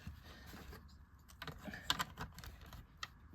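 Old 1978 LEGO bricks and slopes rattle and click together as they are pressed into place, a run of soft close clicks and small clatters at irregular intervals over a quiet background.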